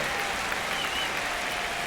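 A crowd in the baseball video game MLB The Show 26 cheers and applauds in a broad, steady wash of clapping after a long at-bat ends in a hit, with no voices standing out.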